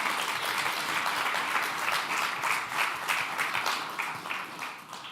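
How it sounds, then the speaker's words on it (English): Audience at a tech event applauds steadily, a dense wash of many hands clapping at once that holds throughout and softens slightly toward the end. "we could potentially give Peter a wonderful round of applause on achieving that."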